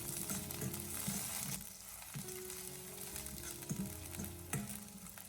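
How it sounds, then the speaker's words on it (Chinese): Ginger slices, scallion pieces and dried red chilies stir-fry over low heat in a little oil, making a quiet, steady sizzle with occasional soft stirring knocks and scrapes, and no talk over it. "开小火先把它翻炒一下，先把姜葱还有干红辣椒炒出香味"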